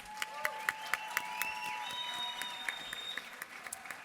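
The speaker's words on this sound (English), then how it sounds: "Ladies and gentlemen, one more applause for our Anika Connolly." An audience claps for Miss Cayman Islands Universe at a pageant show, moderate scattered applause with distinct individual claps, mixed with ringing tones and some background voices.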